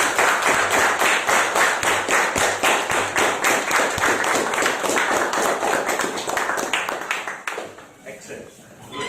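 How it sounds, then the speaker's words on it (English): Audience applause for a speaker finishing a first speech at a Toastmasters-style speakers' forum, a sustained burst of rhythmic clapping from a roomful of people that thins out and fades toward the end. "let's give a round of applause"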